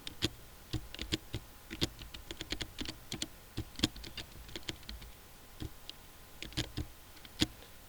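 Typing a command on a computer keyboard: a close, irregular run of crisp key clicks in quick bursts with short pauses, with no talk.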